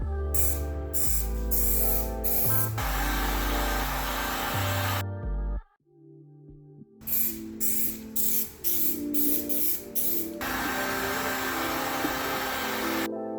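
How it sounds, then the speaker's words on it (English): Hissing spray bursts from an aerosol can of weld-through primer on a restored 1960 Cavalier CS 64-C Coke machine: a long continuous spray, a short pause, then several shorter spurts and another sustained hiss. "let's spray it with weld through primer"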